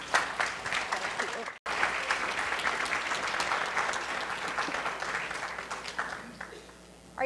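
An audience welcomes a speaker onto the stage at the Justice Works 2014 conference with sustained, dense applause from a sizable crowd. The applause holds steady for several seconds after a brief cut, then gradually thins and fades.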